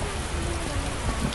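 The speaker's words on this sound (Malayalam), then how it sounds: "ആ മഴ പെയ്തല്ലോടാ സുഗുണ." Steady rain pours in an Indian Theft Auto open-world video game, a continuous broadband hiss that holds at an even level throughout the short stretch.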